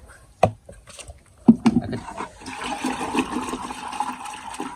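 Liquid mixture poured onto seedling potting soil, a few knocks and taps first, then a steady close splashing trickle that continues to the end, with no talk.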